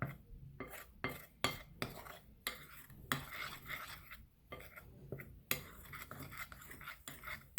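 Cornstarch and shaving cream are stirred together into a crumbly snow-fluff mixture, giving repeated scraping, gritty strokes of a utensil against a bowl in an uneven rhythm, close but quiet.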